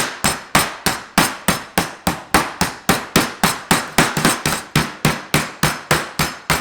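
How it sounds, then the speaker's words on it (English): Raw beef for braciole being pounded flat with a meat mallet, about twenty sharp, evenly spaced thuds in a steady rhythm, loud and close with no talking. "we're going to pound it out with a meat mallet"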